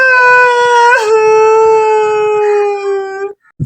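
A single dog howls in one long, loud sustained wail with steady harmonics and a slight pitch wobble near the start, lasting about three seconds before breaking off into a short quiet gap.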